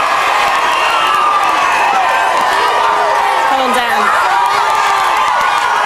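A huge crowd of fans at a live Big Brother UK eviction night cheers, screams and whoops continuously and loudly, with voices talking over the din.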